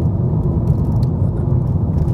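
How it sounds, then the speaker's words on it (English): Steady, loud low-frequency road rumble fills the cabin of a Volkswagen Golf R32 driving over a slightly bumpy road, with a constant droning roar and faint rattles throughout and no talking. "The noise off this slightly bumpy road is pretty loud."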